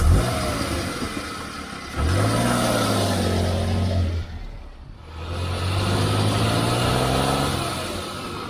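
A petrol hybrid car that burns motor oil, heard from inside while driving: a steady close engine drone rising and falling in pitch through gear changes, with a brief dip near the middle before pulling again.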